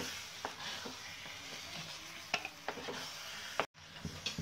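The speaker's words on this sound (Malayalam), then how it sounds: "വീണ്ടും നമ്മൾ നന്നായി ഇളക്കി കൊടുക്കുക." Indian gooseberry lehyam stirred with ghee in a pan: soft scraping and sticky spoon strokes over a faint sizzle, with scattered small clacks and a brief drop-out near the end.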